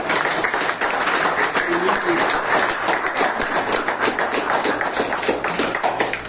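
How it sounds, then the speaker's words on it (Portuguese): Sustained applause from a crowd of mourners at a graveside burial, steady dense clapping filling the whole stretch with some voices mixed in. "A sua salva de palmas"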